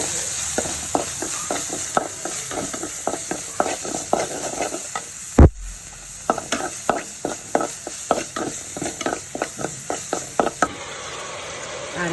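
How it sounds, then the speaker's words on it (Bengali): Leafy greens frying in a pan, with steady sizzling under a quick rhythm of stirring and scraping strokes that pause briefly about midway, then resume close and clear. "করে শাক ভাজা দিই।"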